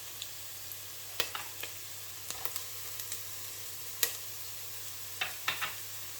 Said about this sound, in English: We'll just give that a stir.